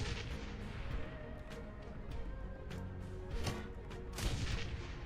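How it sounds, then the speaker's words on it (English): Grenade explosions in the video game Shadowrun: Hong Kong: dense, continuous game combat noise with a couple of louder blasts about midway and near the end, and no speech. "Alright, by party favors, I mean grenades."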